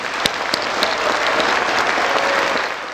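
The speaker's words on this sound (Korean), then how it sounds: "내년에도 계속 오셔달라고 다시 한번 뜨거운 박수를 부탁드립니다." Sustained, dense audience applause filling a large hall at a national prayer breakfast, steady and loud throughout with a few sharper claps standing out near the start.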